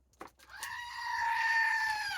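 A goat in hot, humid northeast Texas lets out one long, loud, wavering bleat that lasts over a second and a half, preceded by a few faint knocks.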